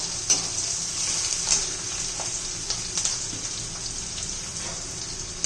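Onions frying in a pan, cooked to medium for besan pithla: a steady, bright hiss of sizzling oil with scattered soft crackles and pops throughout, close and moderately loud, no talk.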